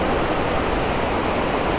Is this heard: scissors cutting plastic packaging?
no